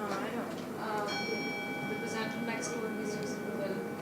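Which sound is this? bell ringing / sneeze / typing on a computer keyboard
bell ringing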